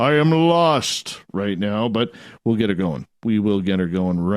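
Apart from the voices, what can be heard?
No everyday noise stands out behind the speech.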